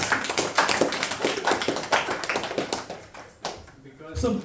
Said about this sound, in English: give a round of applause to the kids.